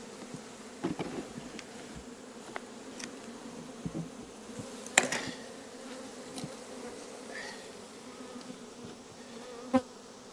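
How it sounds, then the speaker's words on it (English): A low, continuous buzzing of many bees fills the air, with occasional louder buzzes passing close by and a few sharp knocks. "Just to have bees everywhere."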